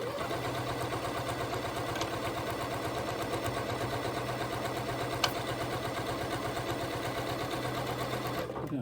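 A sewing machine runs fast while piecing a grey and black quilt top, a dense, rapid rattling hum that carries on evenly and close for the whole stretch.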